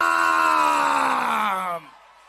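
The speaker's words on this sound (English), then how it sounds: "Keep shouting and making that noise for Jesus." A church congregation in Enugu shouting during live praise: a loud, dense mass of sustained voices with a wavering, yell-like pitch that holds steady, then drops away abruptly to a quiet tail.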